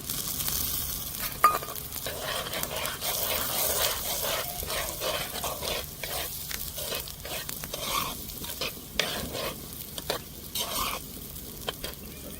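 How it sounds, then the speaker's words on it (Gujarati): Tomatoes go into golden-brown onions frying in a pan for dal tadka, stirred with a steady sizzle and scraping spoon strokes, close and continuous with a few sharper knocks. "હવે આપણે નાખી દઈશું ટમેટા."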